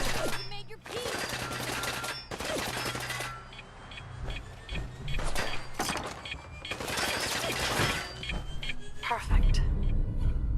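Rapid, sustained minigun fire in the video game Fallout 4 rattles in dense bursts across the whole stretch, loud and close, mixed with other game sounds and a possible voice.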